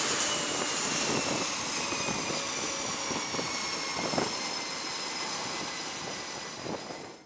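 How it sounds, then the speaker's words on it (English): Jet noise from a US Navy EA-18G Growler electronic warfare aircraft, a loud, steady broadband roar with a high whine that holds for the whole stretch, with no voices over it. "EA-18G Growler is one of the most sophisticated aircraft owned by the United States Navy"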